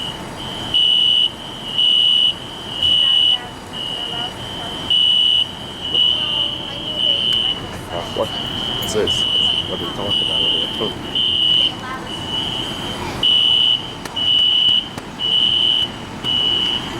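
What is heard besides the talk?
fire alarm going off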